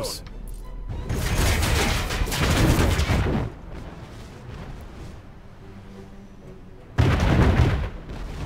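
Battle cruisers firing cannons in the naval combat of Anno 1800, with heavy booming volleys that roll into long rumbling stretches, a quieter pause, then another loud burst, while someone comments over it.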